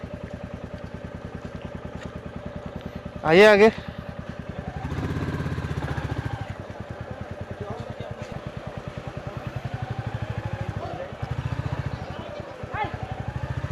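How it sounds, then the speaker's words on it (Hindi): A motorcycle ridden near a temple and then parked chugs with a steady, close idling pulse throughout, with a brief louder burst early on and people talking nearby. "चलो यार, यहाँ बाइक पार्क कर देते हैं।"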